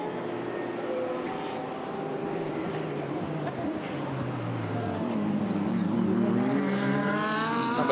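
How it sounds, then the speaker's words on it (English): GT race cars thundering past a trackside commentary position at the Red Bull Ring, a continuous loud roar of engines with rising pitch as several cars sweep by close. "the cars absolutely thunder past our commentary position"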